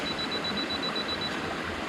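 A camera's two-second self-timer sends a steady high beep, faint against outdoor background hiss, and it stops shortly before the end.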